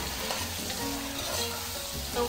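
Chicken pieces sizzle loudly and continuously in a hot pan for Filipino chicken pochero, with a dense frying crackle and faint stirring knocks throughout, close up and without talking.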